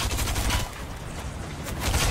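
Rapid automatic gunfire rattles in Fortnite as players shoot at a tank, the bursts dense and fairly loud, with a lull midway before the fire picks up again.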